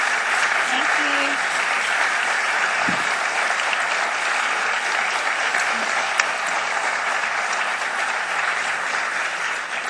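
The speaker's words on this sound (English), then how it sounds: "that's the longest amount of applause any executives have reached since we've started this series" Long, sustained applause from a large audience for Southwest Airlines executives Herb Kelleher and Colleen Barrett, a dense even roar of clapping throughout with faint voices mixed in.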